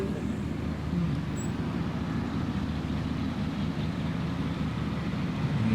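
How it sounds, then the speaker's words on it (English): Steady roadway noise from cars passing nearby during the Pigeon Forge Spring Rod Run forms a continuous low rumble, with faint voices mixed into the background. "You definitely hear all the cars going by."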